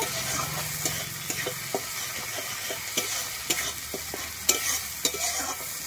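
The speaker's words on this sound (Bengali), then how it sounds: "আমি পোস্ত কাঁচা লঙ্কাটা দিয়ে কিন্তু ভালোভাবে কষিয়ে নেব।" Poppy seed and green chili paste sautéing in a pan, a soft sizzle broken by irregular spatula scrapes and taps, close and fairly quiet, with no talk.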